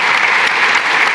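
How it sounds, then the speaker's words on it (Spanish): A church congregation at a sermon applauds Dr. Lajara and his wife with a dense, steady burst of clapping that fills the room at full volume, with no voices heard. "denle un aplauso a ellos"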